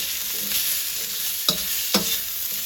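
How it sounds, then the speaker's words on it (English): Chicken, zucchini and carrots stir-fry in a pan with a loud, continuous sizzle, and two sharp spatula scrapes cut through the hiss. "Stir fry that a little bit."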